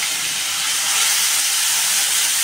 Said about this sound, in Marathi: छान परतून घ्यायचा, हा खमंग वास येईपर्यंत परतून घ्यायचा याला आपल्याला.